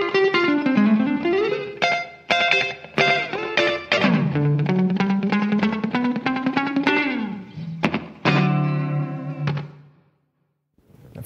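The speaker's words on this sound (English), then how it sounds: "We've improved the tape echo to make it sound more like a classic analog tape echo." An Eventide effects pedal's analog-style tape echo processes an instrument, with rhythmic notes repeating and trailing off in echoing decays, steady and fairly loud until a brief silence near the end.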